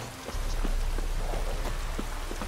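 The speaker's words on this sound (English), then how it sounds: "Looks like rain." Steady rain falls in The Witcher 3: Wild Hunt, a dense, even hiss of drops hitting surfaces with scattered sharper patters, starting after a brief quieter moment and holding at a constant level with no voices.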